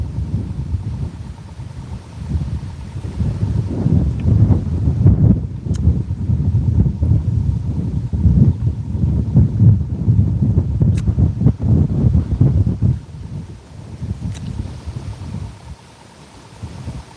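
Strong wind buffeting the microphone at a lake during evening catfish fishing, a loud, steady rushing roar with gusty swells that continues for the whole stretch, easing somewhat near the end, with no voices.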